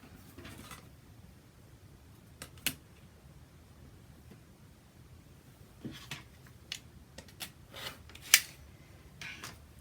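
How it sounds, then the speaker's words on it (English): Scissors trimming 3 inches off the end of a fabric strip for a drawstring bag, heard as a few quiet, sparse snips and rustles spread through a mostly hushed stretch, with the sharpest cuts near the end. "now I'm going to remove 3 inches from this, the end that does not have interfacing. I'm going to trim 3 inches off of that."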